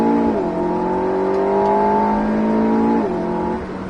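An Alpine A110S accelerating hard on the Circuit du Var, a loud close engine note climbing steadily, then a quick drop as it shifts gear and keeps pulling.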